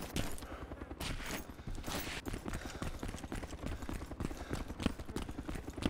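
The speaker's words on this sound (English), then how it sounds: "Oh, shots hitting near my feet." Gunfire in DayZ with rounds striking the ground close to the player's feet, arriving as a dense run of sharp rapid cracks and impacts throughout, fairly loud and near.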